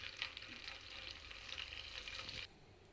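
Potato bites frying in hot oil make a soft, steady sizzle with faint crackles, heard alone at low volume until the sound cuts off near the end.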